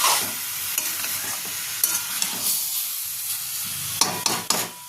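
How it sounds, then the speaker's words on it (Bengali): A spatula stirs eggs, potatoes and cauliflower with spices in a pan, making close scraping strokes over a soft sizzle, with a few sharper knocks of the utensil near the end. "এবার আমি ডিম, আলু, ফুলকপি এই মশলার সাথে খুব ভালোভাবে নাড়াচাড়া করে দেব।"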